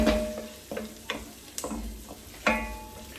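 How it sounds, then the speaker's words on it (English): Onions cooking in a pan, with a soft steady sizzle broken by several sharp scraping and tapping stirs from a utensil against the pan, close by. "I'm going to cook these onions till they're translucent and they'll shrink in size"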